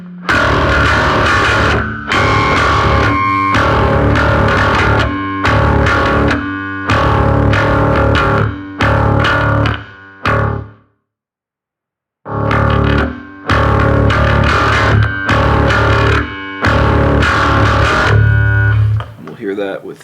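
Ibanez SR1300SB bass guitar played through its bridge pickup with the volume rolled back slightly, a run of loud, punchy plucked notes and riffs in phrases, broken by one short pause near the middle.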